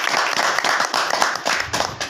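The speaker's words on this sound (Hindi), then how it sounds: "फिर से मैं सबके साथ ताली बजा के मैं धन्यवाद देता" A seminar audience breaks into applause, steady mid-distance clapping from many hands that ripples in uneven bursts for a couple of seconds.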